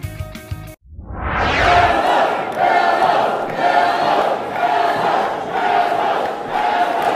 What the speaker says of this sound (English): The crowd happy to see Luke Gallows.